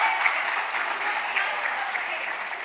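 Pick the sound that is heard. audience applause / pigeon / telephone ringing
audience applause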